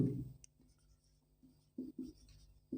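Pen writing an application letter on paper, a few soft scratchy strokes in short bursts with gaps between, close and faint over a low hum.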